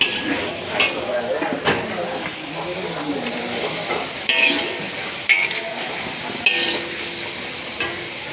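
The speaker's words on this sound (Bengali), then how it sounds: "এই হলো আমাদের আলু আলু দুটো একটু ভেজে নিচ্ছি" Two potatoes frying in a pan for egg biryani, a steady sizzle with occasional stirring clinks and scrapes, while a person talks over it throughout.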